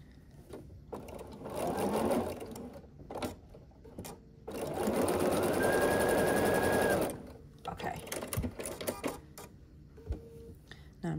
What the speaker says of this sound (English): So let's put that one through and then we'll sew this one as well.